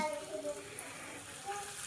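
Semolina-coated bangda fish laid in hot oil on a flat pan, frying with a soft, steady sizzle and a few faint crackles, fairly quiet throughout.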